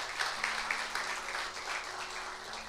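A church congregation applauds the Lord during a worship service, a steady wash of many hands clapping at moderate level, a few sharper claps standing out, with a faint hum underneath.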